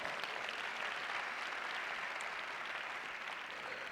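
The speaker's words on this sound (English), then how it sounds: "Let's give it a big round of applause" A conference audience claps in a dense, sustained wash of applause that holds steady from start to finish, fairly distant and even, with no voices.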